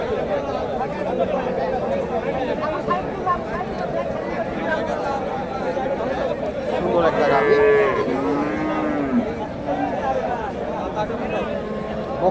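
Cow and calf at a cattle market in Bogura, a cow mooing several times in long low calls mid-way, over steady crowd chatter and people talking.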